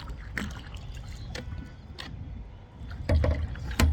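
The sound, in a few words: rowing a boat on a lake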